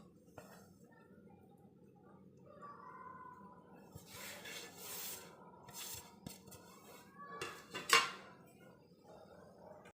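A ladle stirring Gujarati dal dhokli in a cooking pot, with metallic scraping and clinks against the pot over a low simmer, growing louder toward a sharp clang near the end.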